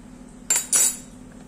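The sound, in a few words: stirring muffin batter in a bowl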